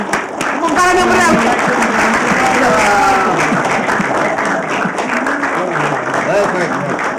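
Audience applause rolls on in a full, steady patter while someone speaks over it, his voice riding clearly above the clapping crowd.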